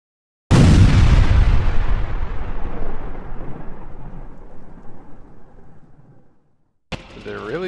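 A mortar shot in the 1999 game Army Men: Toys In Space lands as a single loud, close boom that rolls off into a long decaying rumble over several seconds, followed by a brief burst of other game sound.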